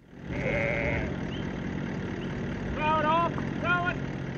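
Sheep bleat on a drought-stricken farm, several wavering calls close by against a low engine-like rumble, one at the start and a cluster of bleats near the end.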